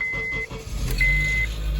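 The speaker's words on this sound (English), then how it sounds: "You can kind of hear it rattle." A 2006 Honda CR-V idles with a low, loud engine rumble and rattle after a cold start, with steady electronic beeps from the vehicle over the engine noise.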